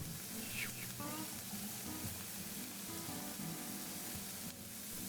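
Beef stock and Guinness are poured into a hot saucepan holding meat on a medium heat, giving a steady, faint sizzle and bubbling hiss with soft pouring and stirring sounds throughout.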